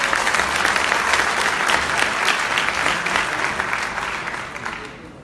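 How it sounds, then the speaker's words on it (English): An audience at a training workshop in Lisbon bursts into loud, dense applause, a full wash of clapping that gradually thins and fades toward the end. "I want you to give them a big round of applause"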